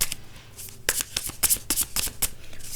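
Tarot cards shuffled by hand in a reading, rapid crisp slaps and riffles following one another in a dense rhythm after a brief quieter start, close and clear with no speech over them.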